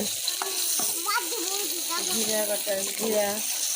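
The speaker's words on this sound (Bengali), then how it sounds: "প্রথমে তেল দিছে, পেঁয়াজ দিছে, কটা কাঁচামরিচ দিছে" Onion and green chillies fry in oil in a village kitchen, a hissing sizzle running under a voice that talks throughout.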